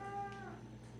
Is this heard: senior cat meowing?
yes